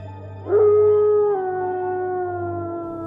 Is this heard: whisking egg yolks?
no